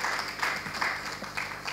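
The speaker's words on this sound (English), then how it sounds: "Ladies and gentlemen, please a warm round of applause to all our online audience." A round of applause from a conference audience at a corporate governance event, steady dense clapping throughout the short stretch, moderately loud with no talking over it.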